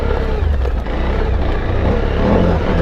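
A Suzuki V-Strom 1000 motorcycle labours uphill offroad on a stony track, its engine a loud, close, continuous drone that rises and falls slightly along with rough wind and ground noise.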